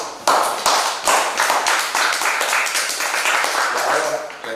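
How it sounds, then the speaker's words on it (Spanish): An audience claps steadily for a poet at a book presentation, a dense wash of applause starting abruptly and lasting throughout, loud and close, with no voices. "un aplauso para él"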